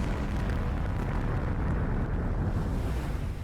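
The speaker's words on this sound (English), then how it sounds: "The warship is obliterated in a colossal explosion" The magazine of the warship Lorient blows up in a recreated naval battle, a dense, loud, sustained rumbling roar with heavy low-end and no talking.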